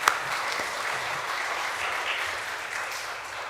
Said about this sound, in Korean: 이렇게 박수로 환영하면 좋겠습니다.